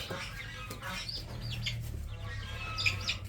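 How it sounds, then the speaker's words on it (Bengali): Chickens on a poultry farm cluck and chirp nearby over a steady background hum, with several overlapping calls and one sharper peep near the end. "এবং এই যে মুরগিগুলা"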